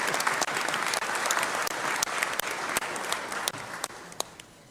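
Warm applause from distinguished guests at a formal evening gathering: dense, even clapping from a room of people, steady and fairly close before fading out at the end.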